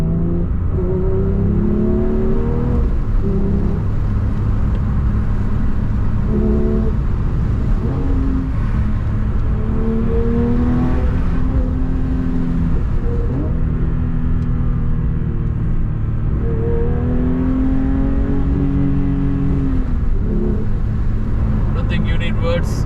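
Flat-six engine of a Porsche 911 GT3 Touring rising and falling in pitch through repeated accelerations on a road trip, heard from inside the car and loud throughout.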